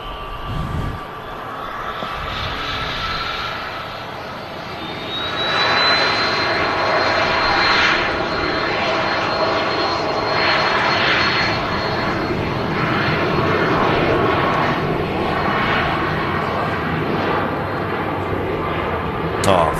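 Jet airliner engines roar close by at Manchester Airport, the noise building sharply a few seconds in and then holding strong and steady, while people talk faintly underneath.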